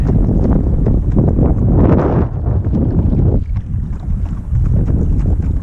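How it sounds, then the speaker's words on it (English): Strong gusty wind roars across a lake around a Hobie Outback kayak, loud continuous buffeting on the microphone with water slapping beneath, swelling and easing without a break. "it's too windy"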